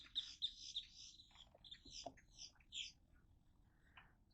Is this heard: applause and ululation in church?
no